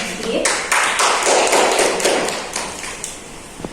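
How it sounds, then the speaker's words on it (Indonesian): Classroom applause follows a student's biology presentation on the nervous system, a dense burst of clapping from a group of students that carries on steadily and gradually thins out. "Kita berikan aplaus"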